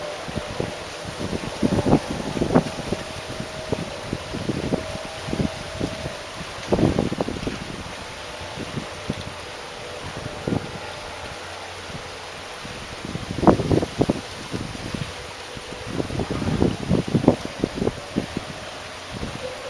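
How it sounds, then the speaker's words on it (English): Wind gusts across a phone microphone outdoors on a pleasant day, a fluctuating low rumble with intermittent bursts and softer rustling throughout. "Apart from the wind, it's a nice day for pipe smoking"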